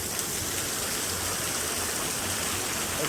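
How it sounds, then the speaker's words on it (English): A stream of water splashes off a rock, producing a constant, even rushing hiss like a small waterfall, steady and moderately loud with no talking. "That's quite a big stream up there."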